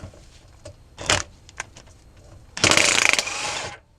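A ratchet with a 15 socket works an engine mount bolt out of a 2015 Ford Focus: a few separate clicks and short bursts, then a long, loud run of rapid ratcheting, close up with no speech.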